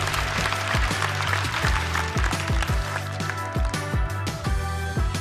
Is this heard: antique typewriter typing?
no